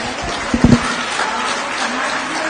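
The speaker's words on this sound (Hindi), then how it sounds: "तालियों की गड़गड़ाहट से हम लोग इनका स्वागत करें।" Audience applause welcomes a speaker at a political gathering marking International Women's Day, with a few sharp claps rising into steady, dense clapping that continues to the end.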